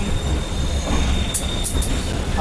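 Interior of the moving Pak Business Express train from Karachi to Lahore: a loud, constant rumble of wheels on track, with a few brief high metallic squeals partway through.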